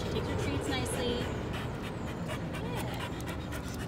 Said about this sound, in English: very hot today, by the way, so she's panting quite a bit